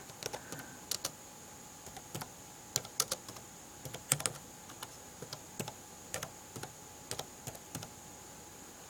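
Quick, uneven clicks of keys being typed one-handed on a computer keyboard, in short bursts with brief pauses, fairly close and quiet.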